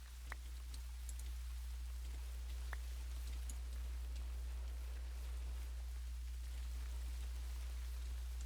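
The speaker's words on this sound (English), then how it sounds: "And the rain has persisted for all of it." Steady rain falling, a soft continuous patter with occasional distinct drop clicks over a constant low hum, fairly faint and with no talking.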